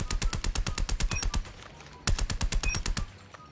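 An EM2 assault rifle fires in a video game, giving two rapid full-auto bursts of evenly spaced, punchy shots separated by a short pause, loud and close.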